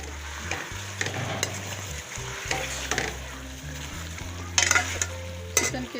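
Chicken sizzles and fries steadily in a karahi while a utensil stirs and scrapes against the pan, with occasional sharper metallic clinks.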